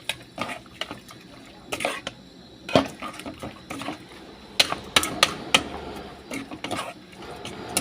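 A utensil stirs food in a pan after coriander goes in, giving irregular metallic clinks and scrapes, some sharp and close, with a few brief quieter gaps.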